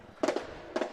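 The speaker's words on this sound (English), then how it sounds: "They've got a fireworks display going on here at Covey Field." Two quick crackling bursts from a fireworks display at a high school football field, sharp and fairly close, spaced about half a second apart.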